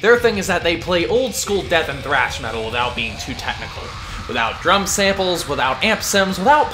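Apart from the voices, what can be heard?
No distinct noise like a dog, phone or traffic.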